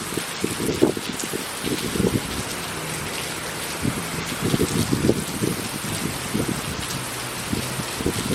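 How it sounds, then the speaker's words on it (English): Heavy rain pours steadily during a weak thunderstorm in Rockville Centre, a dense, loud hiss of water drumming on surfaces with no letup and no talking. "It is absolutely pouring now."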